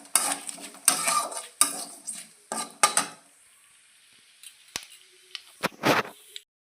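Halved bay leaves and split dried red chillies frying in hot oil with five-spice in a kadai for mango pickle, a spatula scraping and clinking in quick bursts over a light sizzle, close and loud, then quieter taps.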